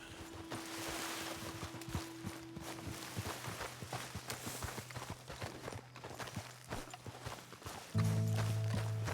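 Horse hooves walk in Red Dead Redemption 2, a soft steady clip-clop of a few steps spread through the stretch, mixed with other game sounds, and a louder droning tone comes in near the end.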